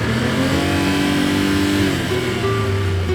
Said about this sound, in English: the engine definitely felt weaker today